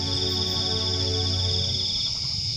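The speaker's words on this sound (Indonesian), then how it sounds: "itu suara cicak" A gecko (cicak) chirps at night in a forest, a steady high chirping trill running through the whole stretch over low insect-like hum, with no talking.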